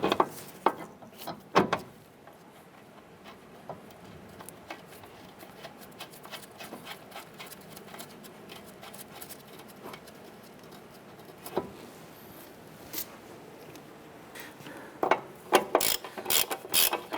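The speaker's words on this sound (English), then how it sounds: "Tighten down your axle nut." Ratchet clicking close up as the CV axle nut is tightened on a 2008-2012 Honda Accord, in short irregular bursts with quiet gaps, ending in quicker clusters of clicks.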